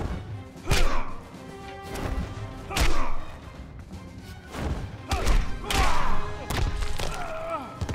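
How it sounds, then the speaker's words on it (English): Heavy punches, whooshing strikes and a cape parry in the Injustice: Gods Among Us fighting game as Batman faces Superman, with loud, irregular thuds and cracks and short game voice grunts. "use Batman's cape parry to counter Superman's attacks"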